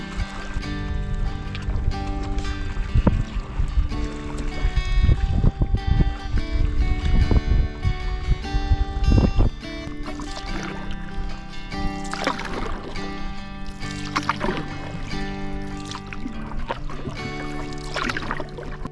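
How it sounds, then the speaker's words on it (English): Canoe paddled on a lake in Algonquin Park, with steady close paddle strokes, water swirling and dripping against the hull, plus some wind, continuous and without speech. "The last paddle of the summer trip."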